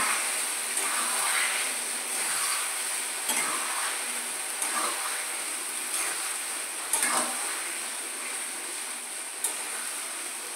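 Cooked ash gourd stirs into a mustard and dried chilli tempering in a pan, a soft continuous sizzle with periodic scraping strokes from a utensil, close and even throughout.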